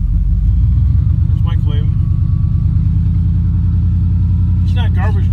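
A truck engine idles at the curb, running a little warm, with a steady low rumble throughout and someone talking briefly over it.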